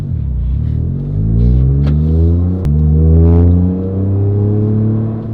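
A Toyota GR Corolla with an aftermarket exhaust and its valve closed accelerates hard and close by, its deep engine note rising through gear after gear with brief drops at each shift.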